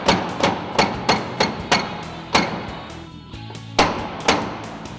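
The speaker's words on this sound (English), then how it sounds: "we need to tap out the drum that's compressed in between the frame here" A hammer taps out a compressed aluminum rope drum wedged in a frame during service of a JLG LiftPod, giving sharp, ringing metallic strikes at an irregular rhythm, close and loud, with a brief pause before a few final blows.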